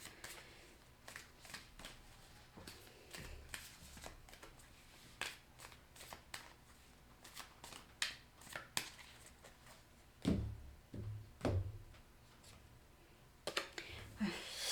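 Tarot cards are shuffled and handled close by in a quiet room, with soft repeated riffling and tapping and occasional light thuds, faint and intermittent, with a voice speaking between.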